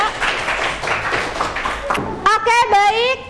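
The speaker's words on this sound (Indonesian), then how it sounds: "Beri tepuk tangan yang meriah untuk kelompok 2." Classroom audience at a vocational high school science lesson claps for a student group that has just finished presenting, a dense patter of hands that fades as a voice takes over.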